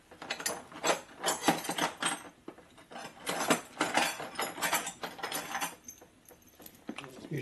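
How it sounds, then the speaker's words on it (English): A hand ratchet torques down bolts on a rebuilt 1977 Harley-Davidson Sportster ironhead 1000cc motor, making repeated bursts of clicking strokes with short pauses, with faint mechanical handling noises between them. "Then you come back and torque them down hard."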